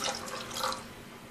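One cup of water pours into a pan of soaked lentils on medium heat, giving a brief, soft liquid splash and trickle close by.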